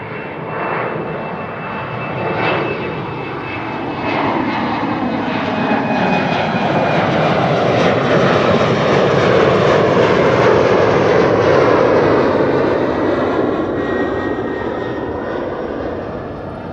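A jet airliner departs Amsterdam Schiphol Airport with a loud, sustained engine roar that swells and holds steady, then slowly fades as the aircraft climbs away.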